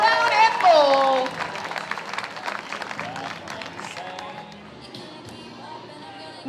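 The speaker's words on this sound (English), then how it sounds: "Let's have a big round of applause for our rodeo clown and bull." A crowd claps at the Bradenton Area River Regatta for a rodeo clown and a bull. Someone speaks briefly at the start, then the applause continues as a dense patter of many hands and slowly fades.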